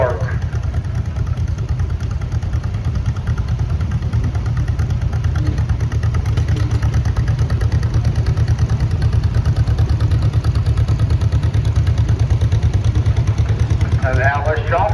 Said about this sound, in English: '48 John Deere A, owned by David Dropshaw of Ripley, New York.